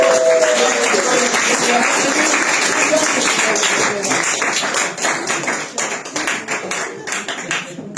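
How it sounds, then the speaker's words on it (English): A comedy club audience in the UK gives a full round of applause after a card trick, loud and dense at first, then thinning into scattered separate claps near the end, with some voices mixed in. "Give them a round of applause"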